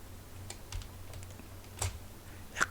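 A handful of soft, widely spaced clicks from a computer keyboard as a shortcut key combination is pressed, faint and close against a low background hum.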